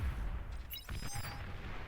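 A short burst of plasma cannon fire in the real-time strategy game Beyond All Reason, with a zapping, tonal crackle and low booms, amid a continuous rumbling game soundscape.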